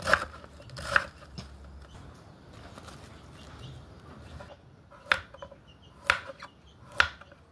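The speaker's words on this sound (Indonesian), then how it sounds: "Iki wortel karo kubis. Diiris gede-gede iki lur." Carrots and cabbage sliced into large pieces on a board: a handful of sharp, separate knife chops, spaced out and fairly close, with quiet background noise between them.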